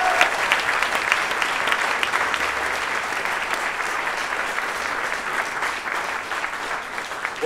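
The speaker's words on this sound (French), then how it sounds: "Merci d'applaudir chaleureusement Yannick Jadot." Steady applause from a rally crowd welcoming Yannick Jadot in Rennes, a dense sustained patter of many hands clapping at close range throughout, with no lull.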